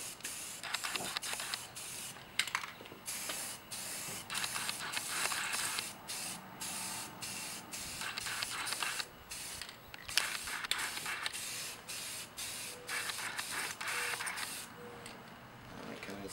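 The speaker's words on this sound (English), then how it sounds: "You don't need to put too much on the first coat, you don't want the paint to run." Spray paint going onto an Iron Man helmet as a first coat, a close hissing spray in repeated short bursts with brief pauses between them.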